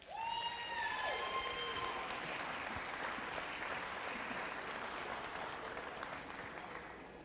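Loud audience applause greets the 2014 Glass Princess pageant winner, dense clapping holding steady throughout, with a brief whistle or cheer near the start before gradually easing toward the end.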